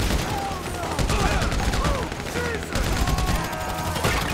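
Rapid bursts of automatic gunfire crackle through a Grand Theft Auto V shootout at a Merryweather site, loud and dense for the whole stretch, with shouted voices mixed in.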